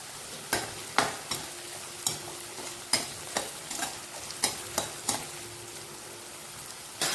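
Finely chopped onion fries in a pan for Manchurian while a spatula stirs it in steady, repeated scraping strokes over a low sizzle.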